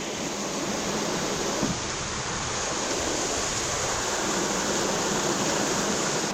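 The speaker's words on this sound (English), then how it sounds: "so the brook is going round here" Brook flowing through an underground river valley in Manchester, a steady broad rush of water filling the whole stretch, loud and continuous with no voices.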